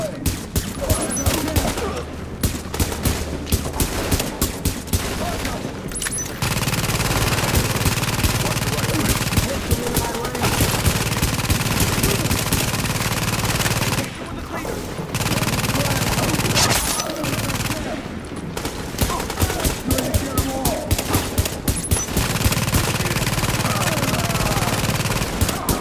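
Dense bursts of automatic gunfire crackle almost continuously through a firefight in the video game Tom Clancy's The Division. Voices and game sounds are mixed underneath.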